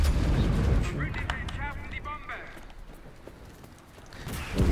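Tank cannon fire in the game Enlisted booms from a distance amid a battlefield din. Someone talks over it in Turkish, and more rumbling impacts follow faintly later.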